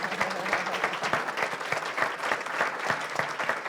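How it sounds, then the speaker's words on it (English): Audience applause for two people standing at a gathering, steady, moderately loud clapping from a crowd with distinct individual claps throughout. "Can you two please stand up for one more round of applause for the two of you?"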